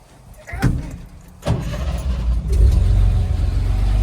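An old antique truck, fitted with parts out of a grain truck, has its door thunk shut before the engine cranks and catches, then settles into a loud, steady low idle close by.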